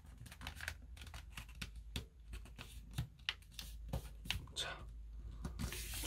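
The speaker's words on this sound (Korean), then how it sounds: "한 번 더 접을 때 이때도 밀리지 않게 잡아준 다음에 가운데 선을 절대 넘어가지 않게 접어주세요" Paper being creased and folded into a paper airplane, with soft crinkles, rubs and sharp pressing scrapes in quick irregular bursts, close up and without talk.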